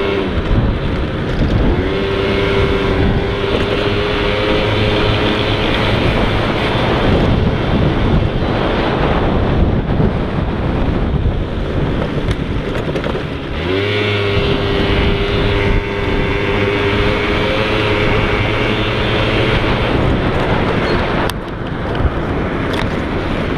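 A moped engine, freshly rebuilt and being run in, drones steadily as it rides, buried under heavy wind rush buffeting the microphone, with no voices.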